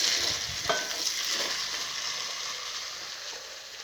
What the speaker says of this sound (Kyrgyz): Этти кызарта кууруп алабыз сөзсүз түрдө.